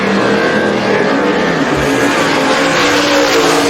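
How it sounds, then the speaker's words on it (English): A pair of Mustang drag cars, one supercharged and one nitrous-fed, run toward the finish line at a drag racing event, with a loud, continuous engine roar and no pauses. "The pair of Mustangs to the finish line."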